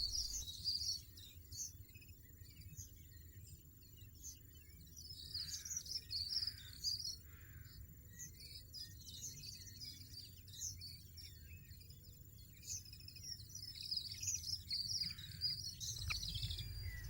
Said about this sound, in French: Les oisillons sont alimentés toutes les demi-heures environ.